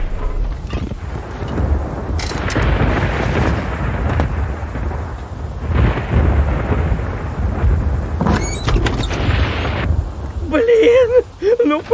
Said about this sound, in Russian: Здесь как из ведра льет.